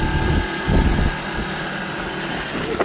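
A small motorcycle engine runs close by at a steady idle-like rumble, with a brief louder surge in the middle and no talk over it.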